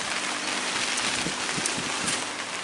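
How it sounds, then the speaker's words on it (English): Rain falls steadily over an outdoor cricket match, a dense, even hiss with scattered heavier drops and faint low thuds, close and continuous throughout. "And now the rain is increasing yet more so, but still not enough to stop the cricket from happening."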